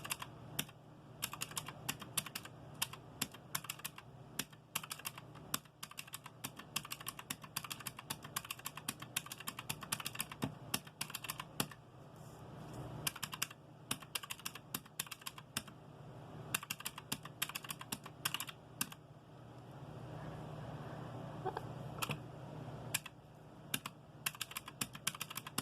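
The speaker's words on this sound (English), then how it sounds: "you can just listen to the sounds of the calculator, which sounds more like a typewriter" A printing calculator tapping out figures with a fast, dense clatter much like a typewriter, running continuously in irregular bursts at low volume, with a brief smoother mechanical whir toward the end.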